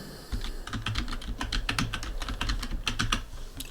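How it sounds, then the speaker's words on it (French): Quick bursts of key presses on a computer keyboard, close and crisp, with irregular clusters of clicks and brief pauses, no talking. "On va taper logo entreprise."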